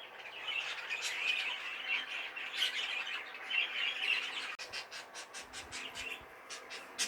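A budgerigar chirps and squawks continuously at close range, a busy stream of high, scratchy chatter.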